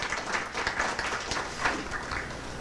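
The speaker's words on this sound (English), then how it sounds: "Let's give them a round of applause for the hospitality this weekend." Members at a Maryland State Firemen's Association executive committee meeting applaud a volunteer fire department, a moderate, uneven burst of clapping from a seated group with scattered individual claps standing out.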